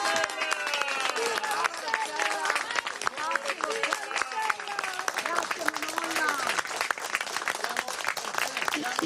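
Citizens applaud outdoors in Venice, a steady crowd clapping that runs unbroken throughout, with voices and chatter mixed in underneath.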